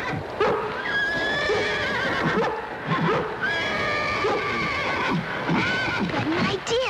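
A horse neighs and whinnies several times, close and agitated, with some hoof clopping and a few faint voices in the background.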